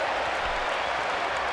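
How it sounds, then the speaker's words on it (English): Crowd noise in the WWE 2K14 wrestling video game during a Hulk Hogan versus Stone Cold match, a loud, continuous roar of an arena audience with no break. "Listen to the crowd."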